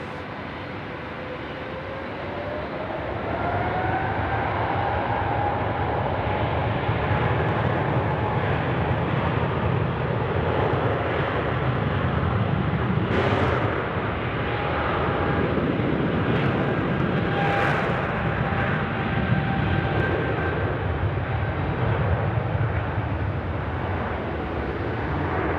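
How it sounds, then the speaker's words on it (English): An Etihad airliner taking off from runway 16 right at Sydney Airport at night, a continuous loud engine roar with a rising whine that holds steady for over twenty seconds, with no talk. "Etihad about to punch it out, 16 right."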